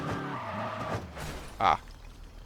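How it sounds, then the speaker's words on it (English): A car in the 2006 Test Drive Unlimited video game slams head-on into a concrete wall, giving one short, loud impact burst near the end after a stretch of engine noise, with a voice exclaiming briefly. "I put it head on into a concrete wall"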